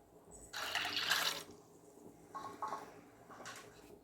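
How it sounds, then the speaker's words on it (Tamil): Water is poured into a pot of washed toor dal lentils for sambar, heard as a few short splashing bursts of pouring and trickling, close and fairly quiet, with no talking. "பருப்பு வேவதற்கு தேவையான அளவு தண்ணீர் ஆட் பண்ணிக்கிட்டேன்"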